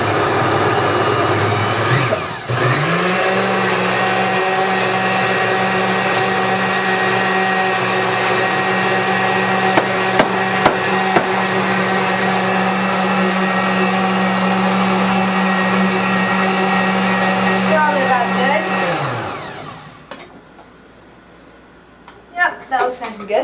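A blender set to stir mixes flan batter with a loud, steady motor whir. It starts after a couple of seconds, runs for about seventeen seconds, then winds down, and a voice is heard briefly afterward.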